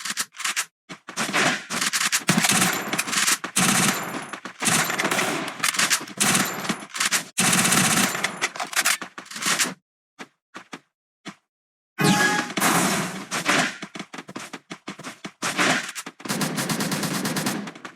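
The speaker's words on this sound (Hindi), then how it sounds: "मुझे पीछे से फायर की आवाज़ आ रही थी" Video game gunfire crackles in rapid automatic bursts and single shots, loud and close, broken by a couple of short quiet gaps before the firing resumes.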